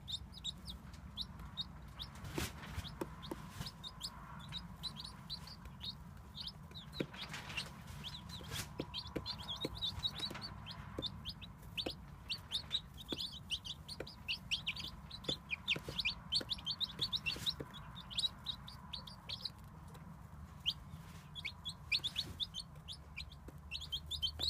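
Hens cluck and call in the background near a chicken nursery, a steady busy chatter of short bird calls and chirps, faint and somewhat distant throughout.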